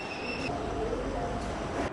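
A train at Anuradhapura railway station, heard as a steady rumbling rail hum with a brief high-pitched squeal near the start, loud and close.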